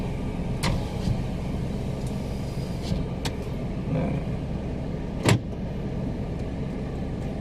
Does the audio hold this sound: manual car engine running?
yes